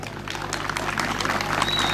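Crowd applause at a traditional Turkish oil wrestling semifinal, a dense continuous clapping from many spectators outdoors, fairly loud and building slightly, with a low steady hum underneath.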